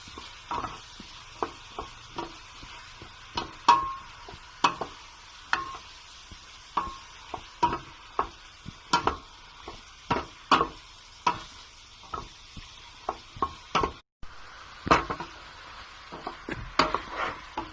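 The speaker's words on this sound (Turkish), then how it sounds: "Böyle gördüğünüz gibi karıştırıyorum." Meat and vegetables for a Turkish tas kebab stir-fry in a pan, with a steady run of sharp spoon scrapes and clacks over a soft sizzle. The sound is close and carries on alone.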